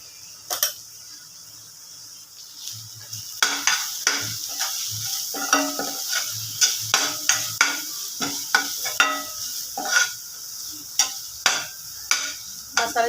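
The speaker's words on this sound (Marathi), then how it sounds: "मसाले थोडेसे तेलात भाजले" Spices roasting in a little oil while a spoon stirs them, a series of rhythmic scraping knocks over a low sizzle, close and fairly quiet.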